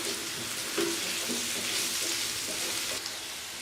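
Loud, steady sizzling of spices frying in a pan for a potato dish, with faint scraping and stirring and no voices.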